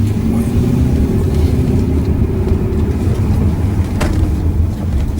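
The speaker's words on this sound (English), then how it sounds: "The V8 is just so effortless to drive, instant power, instant torque, just so smooth." A 2005 facelift Lexus LS430 with a 4.3 litre naturally aspirated V8 driving along, heard as a steady loud low engine drone with road rumble and a brief click partway through.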